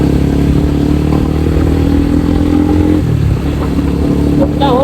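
A Honda Winner X 150 motorcycle engine roars loud and close while riding, its steady drone shifting in pitch as the rider downshifts, with wind rumble throughout.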